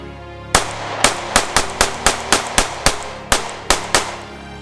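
A Sig Sauer P365 XL pistol fires about eleven sharp, loud shots in a fairly even rapid string, each crack ringing briefly with a short echo, with no talking.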